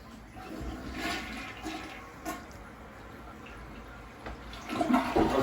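A toilet flushes and water runs steadily in a bathroom, a close, continuous gurgling rush with small swells and a louder surge near the end.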